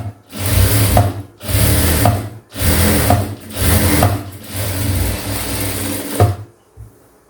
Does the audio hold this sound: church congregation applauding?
no